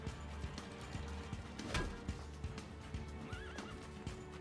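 Horse neighing and galloping in the video game Assassin's Creed 2, with a sharp whinny over a steady clip-clop of hooves amid game background noise, no talk.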